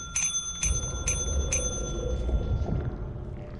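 A bell in the video game Resident Evil 4 rings four times in a quick, evenly spaced series, each clear metallic strike decaying into a ringing tone over low game background rumble.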